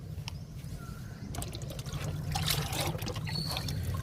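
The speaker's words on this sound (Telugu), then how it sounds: "స్పైడర్ లిల్లీకి లిక్విడ్ ఇస్తున్నాను" Liquid fertilizer is poured onto a potted spider lily on a rooftop terrace, a soft, steady trickle and splatter into soil that grows slightly louder and continues throughout.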